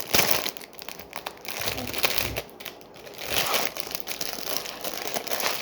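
A Turkish coconut-flavoured ice cream wrapper crinkles and crackles as hands pull at the plastic, a steady rustling that runs through the whole stretch at close range with no talk over it.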